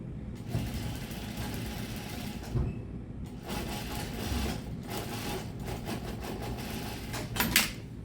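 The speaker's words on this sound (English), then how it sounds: "stitch 1/4 inch top stitching in here." A sewing machine runs top stitching along a shirt seam about a quarter inch from the edge at a short stitch length, a steady mechanical whir with brief pauses and a few louder bumps, close by.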